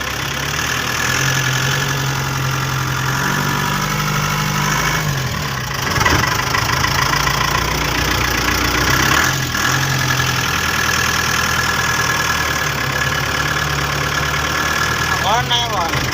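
A TATA 407 truck engine idles in a steady, continuous low rumble with a faint knocking texture, heard up close throughout, with voices faintly in the background.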